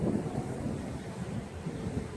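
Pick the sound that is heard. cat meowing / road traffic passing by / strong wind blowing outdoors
strong wind blowing outdoors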